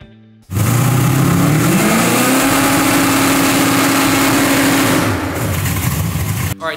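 A naturally aspirated drag car engine bumped with a Holley bump box fires up abruptly and runs loud and steady, its low rumbling tone rising slightly, then stops suddenly near the end.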